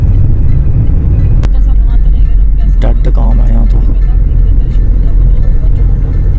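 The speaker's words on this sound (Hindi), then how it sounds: "अंदाजे से गाड़ी चल रही है" A car driving near Bhangarh Fort in India gives a steady, loud low engine rumble throughout, with people talking over it.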